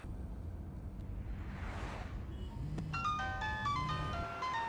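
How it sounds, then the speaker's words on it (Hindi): A mobile phone rings inside a moving car headed for the airport, its bright repeating electronic melody tones entering midway over steady road rumble and a passing whoosh. No one speaks. "देखो, उसका फोन बज रहा है।"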